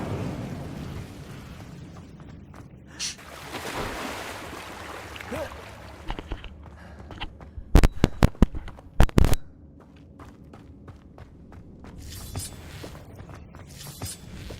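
An Incendio fire spell cast in the video game Hogwarts Legacy, a whooshing burst with crackling, then a cluster of sharp loud cracks and pops, over game ambience.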